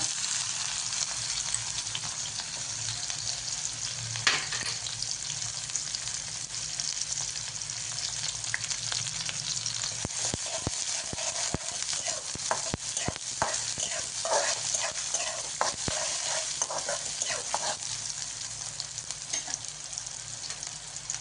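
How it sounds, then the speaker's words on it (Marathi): Onion fries in hot oil with crackling cumin and mustard seeds for a village-style ridge gourd chutney; a steady close sizzle runs throughout, with bursts of sharp popping and spattering midway. "जिरी मोहरी चांगली तडतडली की त्याच्यात टाकणार आहे कांदा"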